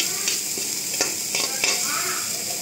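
Bitter gourd fries in a pan with a steady close sizzle while a spatula scrapes and stirs it in a few distinct strokes.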